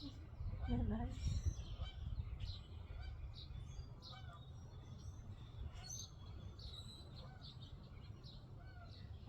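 Birds chirp and call outdoors, with a few goose-like honks over a low, steady rumble of wind.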